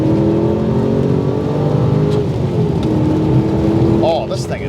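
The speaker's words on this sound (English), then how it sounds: "that is a V8 motor. It's fast and it revs and it's got so much torque" A Holden Commodore VY Clubsport R8 with a 5.7 V8 drones steadily from inside the cabin, a loud continuous engine note with a faint whine that eases off near the end; no talk over it.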